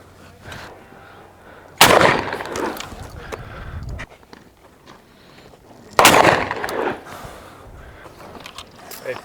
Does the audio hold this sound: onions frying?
no